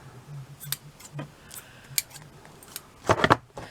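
Quiet, scattered snips of scissors cutting ribbon, a few isolated cuts and then a quick cluster of crisp snips near the end, close by with no talking.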